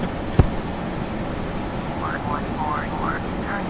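Steady jet engine drone of an Embraer ERJ-135 airliner cruising in a flight simulator game, a constant broadband hiss with a brief thump near the start and some faint chirping tones.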